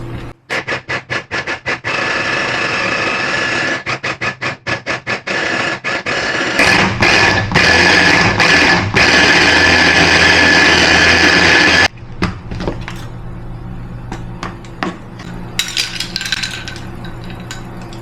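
An electric chopper whirs loudly and steadily as it grinds a meatball mixture with ice cubes, fried shallots and spices, broken by frequent short stops and restarts before a final longer run, ending in clatter.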